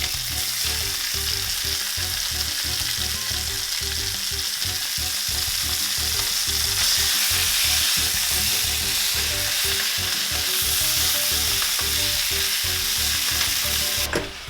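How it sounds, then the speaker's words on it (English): Ground beef sizzles and crackles loudly in a hot frying pan, a constant frying hiss with occasional scraping and stirring, no voices. "we're going to start putting the sizzling ground beef in there"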